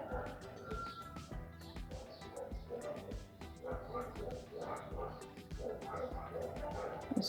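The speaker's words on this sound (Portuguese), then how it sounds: "Os cachorros começaram a latir." Dogs bark in the distance, faint yips and barks scattered under someone speaking close by while she works on a drawing.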